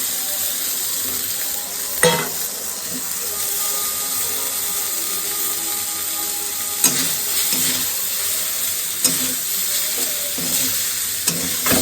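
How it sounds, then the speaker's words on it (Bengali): Noodles frying with soy sauce in a pan, a loud, constant sizzle with occasional sharp scrapes and knocks of the stirring utensil. "ওটাকে দিয়ে ভালো করে নাড়াচাড়া করে একটুখানি সয়া সস দিয়ে নর্মালভাবে রান্না করব"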